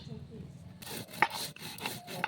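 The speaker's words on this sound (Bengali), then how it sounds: "এখন আমি বেটে নিব জিরে" Cumin seeds are ground on a grinding stone, making a steady run of coarse, gritty rubbing strokes close up, fairly loud, with no voices.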